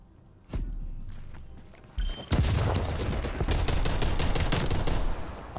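Gunfire in the Call of Duty Black Ops Cold War video game: a single sharp shot, then a pause, then dense bursts of rapid firing and booming blasts that continue loudly for several seconds.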